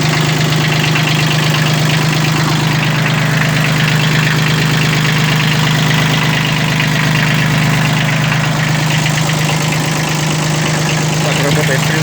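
A Japanese Kubota B1502 mini tractor with a rotary tiller idles in neutral just after starting, its diesel engine holding a loud, steady, close-up hum with no break throughout.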